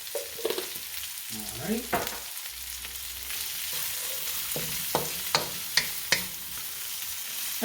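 Vegetables for Mongolian chicken stir-fry in a hot pan with a steady sizzle and spatula scrapes. Several sharp clacks land near the end, and a voice speaks briefly.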